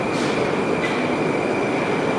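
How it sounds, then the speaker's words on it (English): A modern metro train rolls steadily through a marble-clad underground station, a continuous loud rumble with a thin high squeal of the wheels running over it, no voices. "This is the name of the station, and the train is coming."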